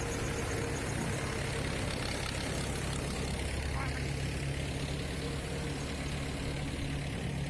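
A tractor engine runs steadily at a paddy rice harvest as harvested paddy is dumped into its trailer, a loud, continuous low diesel drone with a gritty rushing texture throughout and no pauses.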